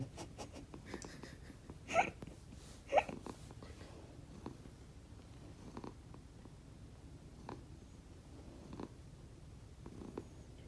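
A cat's soft, rumbling snore-like purr runs steadily and close, with a couple of brief louder snorts or hiccup sounds early on.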